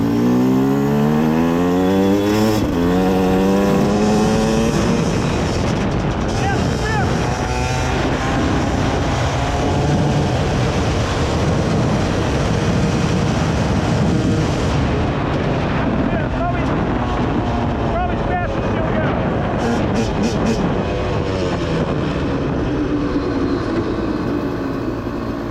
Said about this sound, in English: we're gonna see how fast the bike actually can go.